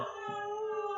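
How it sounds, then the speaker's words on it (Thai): A sound effect of many dogs howling together forms a brief, sustained chorus of layered tones, steady and fairly quiet for about a second. "เหมือนกับว่าหมาเป็นสิบตัวหอนอยู่หน้าบ้านของเขา"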